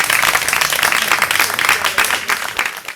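An audience applauding at the launch of a theatre play in Benin, dense continuous clapping from a crowd up close that tapers off slightly at the end.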